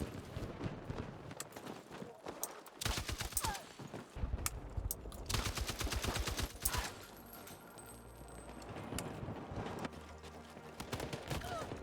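M60 machine gun in Battlefield 6 hammering out several long rapid bursts of automatic fire amid game explosions and ambience, loud and close, with voices talking in between.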